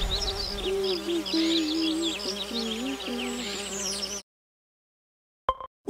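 Cartoon bees buzz loudly and steadily for about four seconds, a dense insect drone, then the sound cuts to silence with a brief faint noise near the end.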